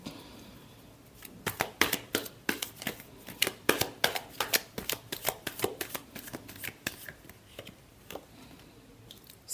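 Tarot cards being shuffled, up close, in a rapid run of crisp riffling flutters that fades out near the end. No speech is heard over it.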